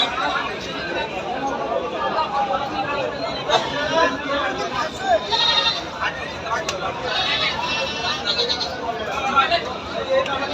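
Male goats, some of cross breed, bleating repeatedly at a busy goat market in Baneshwar, Rajshahi, amid constant crowd chatter and nearby people talking.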